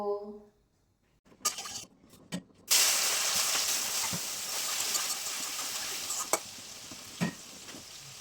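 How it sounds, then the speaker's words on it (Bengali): Chicken meat sizzles and fries in a hot kadai, a steady loud hiss with intermittent stirring scrapes and clatters after a brief quiet start. "এদিকে এখন মাংস আগে ভেজে নেব তো কড়াই গরম হয়ে গেছে এদিকে চিকেন নিয়ে আসছে"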